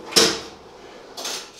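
An overextension drawer mounted in a Land Cruiser's rear end slides with a sharp rolling rush, goes quiet briefly, then glides again with a softer slide, close by.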